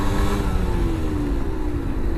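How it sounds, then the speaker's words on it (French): A 125cc motorcycle engine revs hard near the red line, a loud, close, strained drone that sags slightly in pitch, with no talk. "Là, le moteur il est trop dans le rouge"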